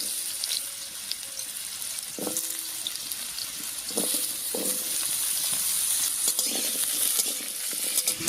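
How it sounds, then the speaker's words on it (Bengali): Pumpkin pieces in hot oil in a wok, a steady quiet sizzle with intermittent scraping and clinking as they are stirred, close and fairly faint, no voices. "তেলের উপরে কুমড়ো দিয়ে একটু নাড়িয়ে নিয়েছি"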